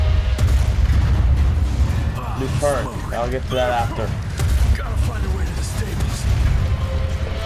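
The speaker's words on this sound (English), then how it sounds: "Explosion. That's all that's left of Harrow Zeppelin." A zeppelin blows up in the Western action game Evil West, a dense, loud booming roar that rumbles continuously throughout, with someone talking over the blasts.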